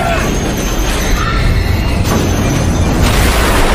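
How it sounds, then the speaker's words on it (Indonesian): In a film scene, an elevator with a broken cable plunges down and crashes. A loud, continuous rumbling boom with metallic bursts fills the whole stretch. "Lift itu pun meluncur jatuh dengan Alpha dan Samsul yang masih berada di dalam sana."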